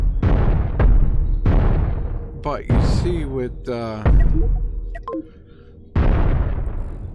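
Ship weapons in the space game Cosmoteer auto-fire and explode in repeated loud bursts and booms, with someone talking over and between the blasts.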